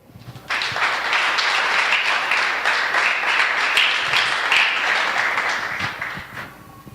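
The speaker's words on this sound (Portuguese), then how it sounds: "dá uma salva de palmas para o Senhor." A church congregation breaks into loud, sustained applause during a sermon, the clapping swelling in after a brief pause and holding dense and even for several seconds before easing off.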